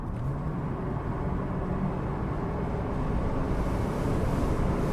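1979 Mercedes W116 350 SE accelerating from 50 to 80 km/h, a smooth steady engine and road roar heard from inside the cabin that swells gradually as speed rises.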